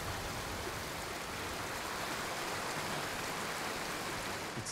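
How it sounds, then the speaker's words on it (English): A waterfall in the video game Ghost of Tsushima gives a steady, dense rush of falling water that stays even and close throughout, with no voices. "Under the waterfall."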